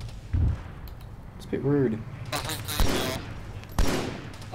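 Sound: gunfire in the video game Arma 3

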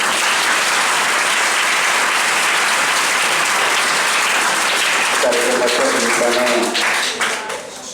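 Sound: audience applauding

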